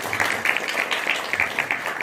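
Audience claps at a school felicitation ceremony, a short burst of dense, moderately loud applause.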